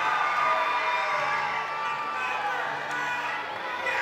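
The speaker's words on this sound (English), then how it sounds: "And the crowd goes wild." A large audience cheers and whoops at the 2023 Penn Foster Group graduation ceremony, a dense, steady roar of voices with no individual words standing out.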